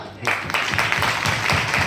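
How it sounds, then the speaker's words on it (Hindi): Audience applause at a network-marketing meeting, dense and fairly loud clapping with audible individual claps, mixed with some voices. "तो दोनों के लिए जबरदस्त तालियां"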